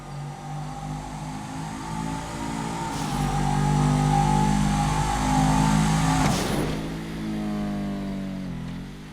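A sports car engine in GTA V Online revs up and holds a loud, aggressive roar, then shifts pitch and eases off, heard close without any talk.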